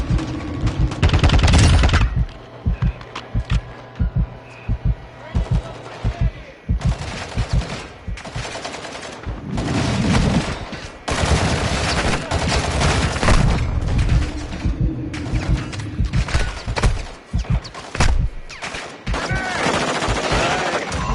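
Heavy gunfire from Call of Duty: Modern Warfare 2 combat, with dense bursts of automatic rifle fire and explosive booms coming in loud waves, broken by brief lulls and mixed with game radio voices.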